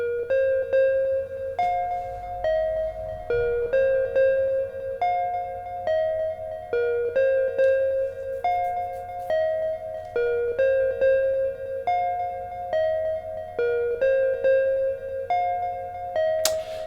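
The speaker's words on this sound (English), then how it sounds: "synth voice number 2 is playing as a sequence." A Vermona Perfourmer MkII analog synthesizer plays a steady repeating sequence of bright, buzzy tones at a regular pulse, with a low drone beneath, continuing throughout.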